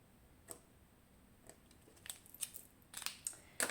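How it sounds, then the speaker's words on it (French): Scissors snip washi tape during a diamond painting craft session, a few sparse, crisp, close cuts that grow more frequent toward the end over a quiet background. "je vais juste couper ici à ras du washi tape"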